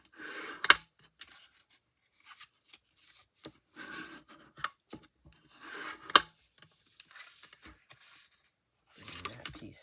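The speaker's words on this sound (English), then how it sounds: "So I am going to go ahead and score that." Scoring a folded paper card with a tool for a fun-fold card project, heard as short scraping rubs and rasps that come in intermittent bursts, close and fairly quiet, with a few sharper taps between them.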